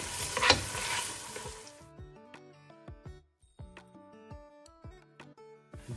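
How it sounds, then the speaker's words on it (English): A brief burst of close, loud sizzling as tomato paste fries with onion in a pan for a kingfish-wing tomato sauce, fading after about two seconds into sustained piano-like musical tones. "start to frying them with the onion to give nice bright color"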